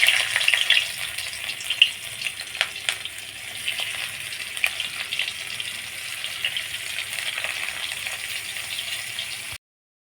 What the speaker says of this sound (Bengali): তারপরে পেঁয়াজটা দিয়ে দেবো।